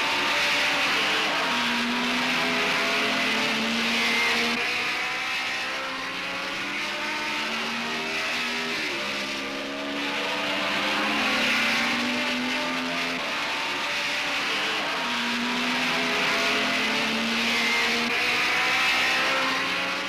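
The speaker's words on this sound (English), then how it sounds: "Here's Jim Clark and the gear changing he spoke about" A 1960s racing car engine at full song, its loud, unbroken snarl climbing in pitch and then dropping with each gear change, repeating through several upshifts, close and dominant.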